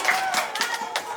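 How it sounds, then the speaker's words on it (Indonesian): Children clap their hands together in a classroom, a brief burst of several sharp, close claps with a faint voice in the background. "Ya, tepuk tangan dong"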